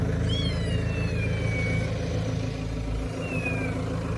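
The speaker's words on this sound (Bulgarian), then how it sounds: "Някъде имам котка." A cat meows several times from somewhere nearby, high and drawn-out with falling pitch, over a steady low engine hum.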